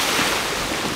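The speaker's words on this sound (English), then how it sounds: "I don't know how much of this you'll be able to hear with the wind" Loud, steady wind roars across a sailboat cruising on the Chesapeake Bay, a dense rushing noise buffeting the microphone with no pause.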